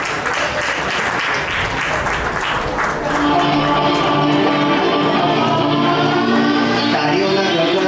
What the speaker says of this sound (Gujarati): તાળીઓના ગડગડાટથી વધાવી લઈએ.